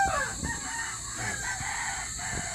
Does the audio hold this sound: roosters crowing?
yes